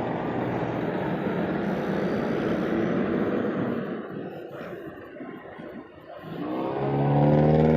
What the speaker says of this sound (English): The motorists trying to beat the traffic.